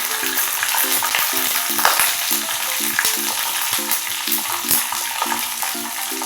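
Mustard seeds crackle and splutter in hot oil during tempering for a curry leaf thokku, a dense continuous sizzle with sharp pops scattered throughout, close and steady with no voices.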